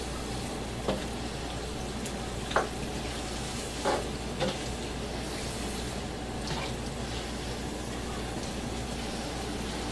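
Thick puttanesca pasta sauce sizzles steadily in a skillet, a constant soft crackling hiss with a few faint clicks of a utensil, no talking.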